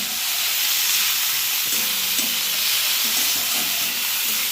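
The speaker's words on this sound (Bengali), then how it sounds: "আজকে কুলেখাড়া শাক ভাজা হচ্ছে" Kulekhara greens fry in a pan with a loud, steady hiss of sizzling oil throughout, with faint scraping stirs now and then.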